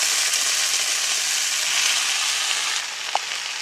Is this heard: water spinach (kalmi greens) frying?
yes